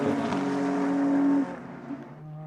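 A GT race car at Sonoma howls past at full throttle, its sharp engine note holding steady and then dropping away, followed by fainter engines behind.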